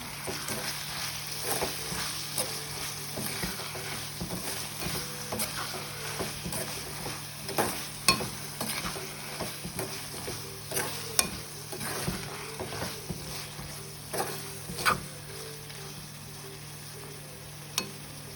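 Seeni sambol frying in a pan and being stirred, a continuous sizzle under repeated scraping strokes with a few louder clacks, close and steady with no talking.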